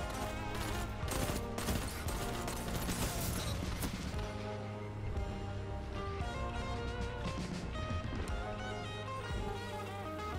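Fusion rifle fire in the video game Destiny 2, a steady stream of charged energy bursts and impacts layered over dense, continuous game music and effects at moderate loudness, with no voices.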